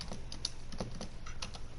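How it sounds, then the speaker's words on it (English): Faint, quick keystrokes on a computer keyboard, a soft irregular patter of clicks heard alone in a quiet room. "just typing out the number"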